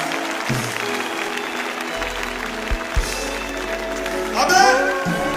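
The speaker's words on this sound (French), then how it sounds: "Que tout le monde acclame pour ces âmes sauvées." A congregation at a healing and deliverance prayer crusade claps and cheers in a dense, steady wash of applause. Music tones run underneath, and a voice rises briefly near the end.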